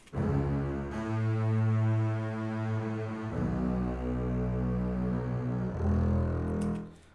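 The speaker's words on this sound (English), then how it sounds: "viola sustain here as well" Three long, sustained bowed viola notes follow one another, each shifting in pitch, rich and resonant with no voices.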